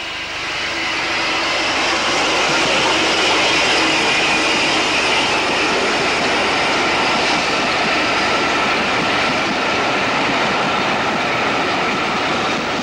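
A West Country Light Pacific steam locomotive working a rail tour, a loud, steady roar of exhaust and running gear that holds close and constant with no let-up.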